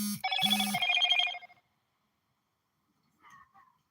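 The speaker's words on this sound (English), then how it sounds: "My phone went off" Mobile phone ringtone goes off nearby with a short bright electronic melody lasting about a second and a half, then silence and a faint trailing chime.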